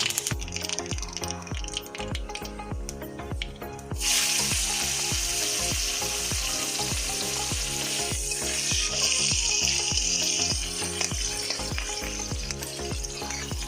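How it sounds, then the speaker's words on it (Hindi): Mustard seeds sizzle and crackle in hot oil in a kadai, a steady loud frying hiss that swells sharply partway through, over a rhythmic musical backing. "प्रथम कड़ाई रे तेल पकेइबो सोरिष फुटण टिके देयो"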